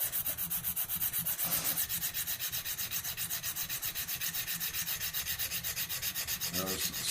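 A single bevel broadhead blade is stroked on a KME sharpening system stone, a close, steady rhythmic rasping scrape repeating about three times a second with no voices.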